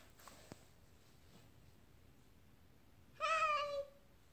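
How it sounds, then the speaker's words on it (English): A single cat meows once, clear and fairly close, after a quiet stretch with a faint click or two. "This is the friend, the cat."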